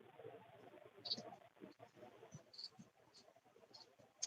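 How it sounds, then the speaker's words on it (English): Cicadas or similar insects outdoors at night give faint, scattered high-pitched chirping pulses over a low background murmur that may include distant voices. "Ah, the cicadas."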